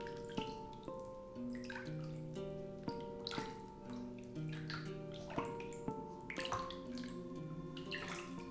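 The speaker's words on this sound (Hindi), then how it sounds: "उसके कानों में पानी के टपकने की आवाज़ सुनाई देती है" Water drips steadily, one drop after another, each a clear pitched plink over a faint watery background, close and fairly quiet with no voices.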